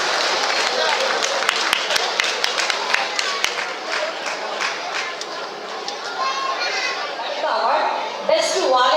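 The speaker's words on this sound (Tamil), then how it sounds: "ஒரு நல்ல கரகோஷத்தை கொடுக்கலாமே." Audience applause at the Marutham Awards 2025 ceremony, a steady crowd clapping throughout with some chatter and children's voices mixed in, swelling again near the end.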